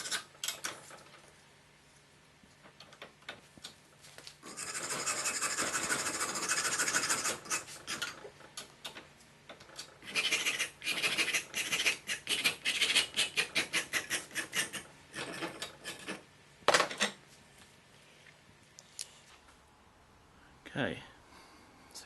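A rasp scrapes and rounds the back of a carved wooden spoon in bursts of rough, rhythmic strokes, some sustained and others short and choppy, with quiet pauses between.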